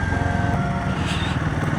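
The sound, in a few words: motorcycle engine riding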